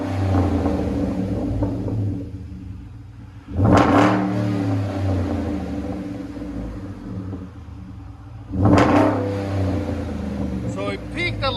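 With a Magnaflow true dual exhaust fitted, a 2011 Hyundai Genesis 4.6L V8 rumbles at idle and is blipped twice, several seconds apart. Each rev is a quick, loud rise that drops back to the steady burble.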